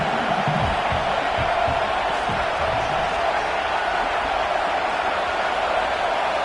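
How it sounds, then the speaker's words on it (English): Stadium crowd at an NCAA football game roaring continuously, a broad sustained wash of cheering and yelling from a large audience, holding steady throughout with faint voices underneath. "this crowd trying to help keep them there"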